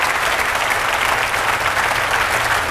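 Studio audience applauding steadily at a French live music broadcast in Paris, a dense, even wash of clapping that stays loud and unbroken throughout with no voices on top.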